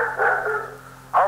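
A dog barks once, short and fairly loud, near the end of a muffled prank phone call, following a stretch of voice-like sound.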